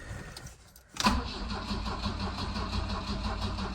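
A restored 1967 Volvo Amazon wagon engine cold starts with the choke on and no throttle: a brief crank, then it catches abruptly and settles into a steady, lumpy idle, close and alone.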